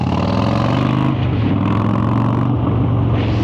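Harley-Davidson 2012 Dyna Wide Glide with a 103 cubic inch Milwaukee V-twin and loud pipes, revving up close with a deep, steady, loud rumble that swells and dips in throttle blips throughout.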